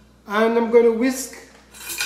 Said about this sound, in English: And I'm going to whisk.